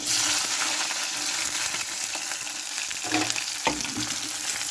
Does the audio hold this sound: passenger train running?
no